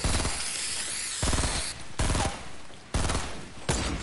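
Video game gunfire erupts in bursts, rapid automatic fire stopping and restarting roughly every second or so, loud and close with sharp attacks and no voices over it.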